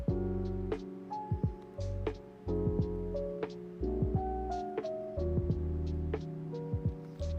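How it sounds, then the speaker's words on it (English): A close, steady electric shaver buzz with a low harmonic hum, broken by brief clicks and shifts in pitch as it moves over a head during a taper fade haircut. "Then use our shaver to make sure it's all the way down to the skin."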